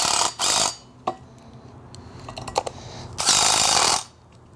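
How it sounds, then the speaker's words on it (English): Allen wrench turning a bolt during assembly of a swing: a series of small clicking, ratchet-like metal taps, close and fairly quiet, framed by two louder broadband rustling bursts near the start and end. "Line this up, Allen wrench through."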